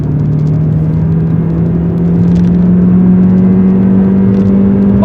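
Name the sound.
MG HS car accelerating hard in sport mode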